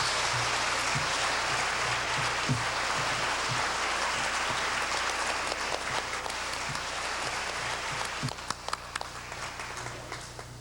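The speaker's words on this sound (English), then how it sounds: "Can we have a nice round of applause for all of these award winners?" An audience applauds award winners on a crowded stage, a steady dense wash of clapping sustained throughout, fairly close, with a low hum underneath.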